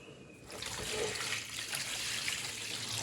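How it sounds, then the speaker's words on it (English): Tap water runs steadily into a bowl being rinsed out in a kitchen sink, a broad continuous splashing trickle close by that swells slightly after the first half second, with no talking. "So I'm just going to rinse this out"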